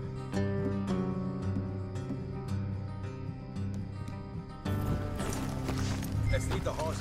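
Horse hooves clip-clop at a steady walking pace in Red Dead Redemption 2, over a background of game music.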